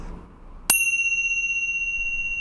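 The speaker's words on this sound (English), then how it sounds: "let's begin our time together with the ringing of the bells" A single bright bell strike rings out clearly, then its pure tones sustain and slowly fade over a quiet background, with no talk.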